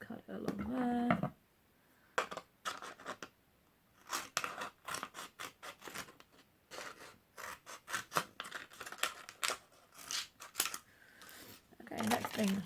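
Scissors cutting fabric for a mini top hat: a series of crisp close snips in irregular bursts, with a short stretch of talking at the start and soft rustling between cuts.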